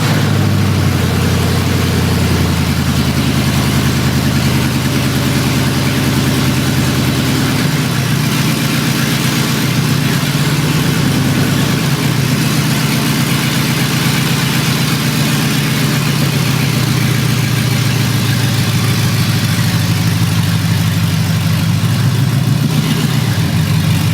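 An LS-powered Chevy squarebody Blazer fitted with Black Widow Venom 250 mufflers runs in a loud, steady idle up close, its deep exhaust rumble swelling slightly at moments, with no one speaking.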